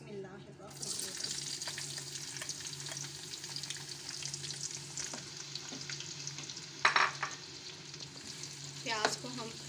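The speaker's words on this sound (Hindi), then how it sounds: "प्याज को हम फ्राई करेंगे" Onions sizzle and crackle steadily in hot oil in a pan while cooking chicken achari, a close, continuous frying hiss with small pops and a few louder clattering stirs.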